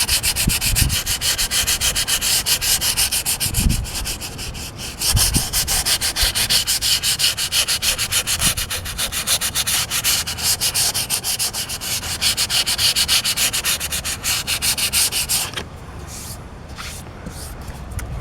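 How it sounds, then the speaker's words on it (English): Steady rubbing of medium-to-fine sandpaper over putty on a wind-damaged, split wooden door jamb, continuous close scratching strokes that carry on at an even level, then drop to quieter sanding near the end. "I'll get that all sanded down."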